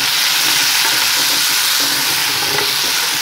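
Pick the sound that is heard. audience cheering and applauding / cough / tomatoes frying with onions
tomatoes frying with onions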